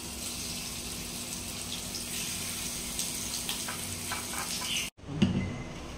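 Fish frying in hot oil in a frying pan, a soft continuous sizzle with light crackles, briefly cut off near the end before resuming with a clatter.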